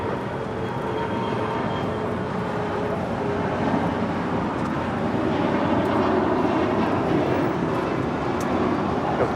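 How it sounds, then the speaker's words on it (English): A SkyWest Airlines CRJ 700ER jet departs Los Angeles International Airport, its engine rumble a steady, fairly distant broadband roar that swells slightly toward the end, with no voices. "Flight 3155, operating for American, departing to Jackson on a CRJ 700ER"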